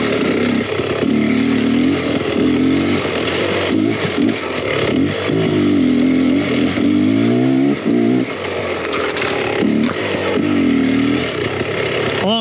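Beta X-Trainer 300 two-stroke dirt bike engine buzzing and revving continuously while riding an overgrown trail, loud and close with repeated throttle rises and dips.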